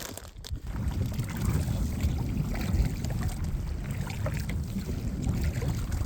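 A kayak paddling on Lake Vänern in Sweden, with steady soft water swishes and splashes from the paddle strokes, plus a low wind rumble across the microphone and no talking.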